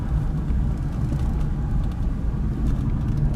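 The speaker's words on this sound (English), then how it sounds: "Gosh, that V12 sounds amazing." Aston Martin Rapide V12 idling or cruising at low speed, a steady deep engine rumble that holds constant and close throughout, on a mild Florida day with no voices.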